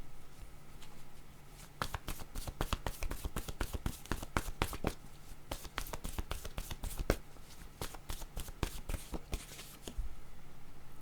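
Tarot cards shuffled by hand at close range, a long run of quick crisp riffling snaps and flicks in uneven bursts, with a brief pause near the end.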